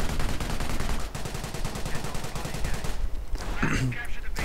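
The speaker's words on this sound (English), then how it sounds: "Panzer Grenadier running up the hill, but running into steep machine gun fire" Rapid machine-gun bursts rattle continuously in a World War II strategy video game, dense and loud with layered battlefield noise and distant explosions toward the end.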